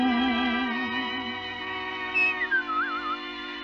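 A person whistles an imitation of a bobolink's song: warbling, wavering tones over a faint musical background, ending in a rising and falling trill, close and clear.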